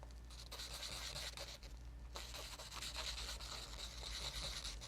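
Steady faint scratchy rubbing of sanding against a hard cutting mat, used as a firm sanding surface while finishing a small part, continuous with slight strokes and no talk.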